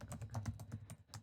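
Rapid, uneven keystrokes on a computer keyboard, typed while writing a short narrative passage; close and fairly quiet, clattering alone with no talk.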